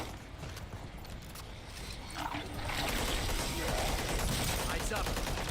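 Rapid gunfire from a tactical shooter video game, a dense, continuous clatter of shots that grows louder and busier partway through, with a faint voice underneath.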